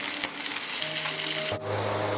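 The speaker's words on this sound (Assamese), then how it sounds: "মাছ ভাজা হৈ গৈছে আমাৰ। এইখিনি উঠাই আমি পিছৰ মাছখিনিও ভাজিম।" Fish frying in oil makes a brief, close sizzling hiss with a stirring scrape partway through as the bubbling settles slightly.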